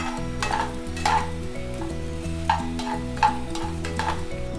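Potatoes frying in a honey sauce over a medium flame, a steady sizzle with occasional stirring scrapes, close and fairly loud with no talking.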